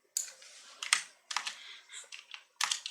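Brisk clicks from a computer keyboard come in short clustered runs with brief pauses, close by in a quiet room as Python code is entered.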